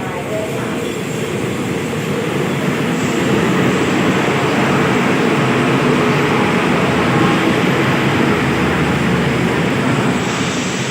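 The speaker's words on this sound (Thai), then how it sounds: "ตอนนี้กำลังจะมีรถไฟอีกหนึ่งขบวนเข้ามาที่ขอบทาง" A train pulls in alongside the platform at Nakhon Sawan station, a loud, steady rumble and roar of rolling wheels and engine that swells slightly midway and holds close for the whole stretch.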